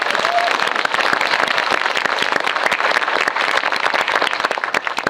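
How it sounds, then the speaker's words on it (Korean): An audience at a film talk event for The Man Standing Next with director Woo Min-ho bursts into loud, sustained clapping, with dense claps running throughout and no speech over them. "박수 한번 쳐주세요"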